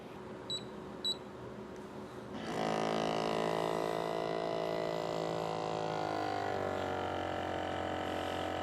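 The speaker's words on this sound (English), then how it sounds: "And we're pulling espresso" An Outin Mino portable electric espresso machine gives two short beeps, then its pump starts and runs as a steady buzzing hum while pulling a 50 ml shot, close and even.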